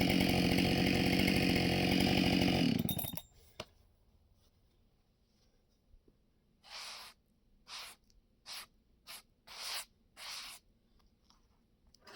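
A Husqvarna chainsaw on an Alaskan sawmill runs loud and steady while rip cutting an oak log, then cuts out abruptly; a string of short, quieter bursts follows after a pause.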